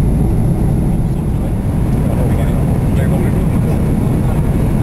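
An Emirates airliner landing on flight EK107, heard from inside the cabin as a continuous loud broadband engine and airflow roar that holds steady throughout.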